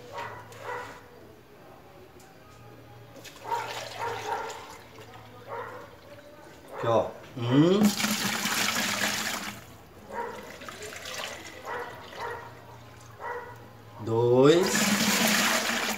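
Water poured from a container into a large bucket to mix plaster, heard as bursts of gushing splash that stop and start across the stretch, with someone talking and counting between pours.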